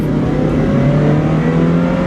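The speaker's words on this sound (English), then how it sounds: "Foot to the floor. We're in 4th gear drive, regular drive." A car in regular fourth-gear drive accelerates at full throttle, a loud, close, steady engine drone with a slowly rising pitch that fills the whole short stretch.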